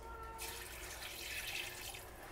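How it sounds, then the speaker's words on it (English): Chicken broth poured from cans over dry spaghetti noodles in a covered baker, a steady, close splashing liquid stream that starts abruptly and runs continuously without talk. "You're just going to pour the chicken broth right on top of the noodles."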